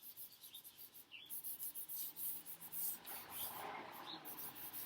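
An eraser rubs back and forth over a charcoal still-life drawing, producing faint, rhythmic scratchy strokes at close range in a quiet room.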